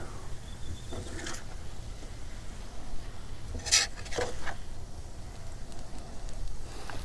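Steak fajitas are being stirred together on a Blackstone griddle outdoors in the dark. Faint sizzling runs underneath a few scattered metallic spatula scrapes and clinks, with one sharper clank near the middle.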